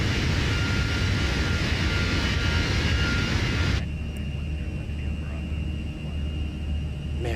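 A simulated Airbus A320 jet roars past in a flyby in Microsoft Flight Simulator, a loud, close broadband engine rush that cuts off abruptly into a softer steady hum and faint tones.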